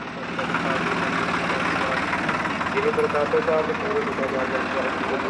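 A tractor engine idles with a steady low chugging throb, fairly close, while voices talk over it.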